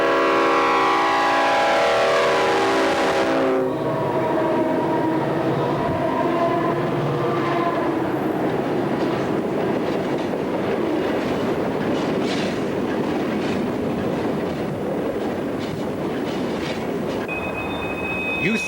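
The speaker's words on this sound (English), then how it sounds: "3 SD-50s on another coal train" Three heavy CSX SD50 diesel locomotives hauling a coal train rumble past loudly, with a horn blast at the start, then continuous rolling coal wagons and clanking wheels.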